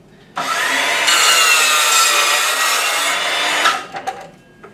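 A power saw trims about a quarter inch off the rough end of a wooden board for a night stand, one loud, steady cut of a few seconds that ends abruptly, followed by a couple of brief clunks as the piece drops.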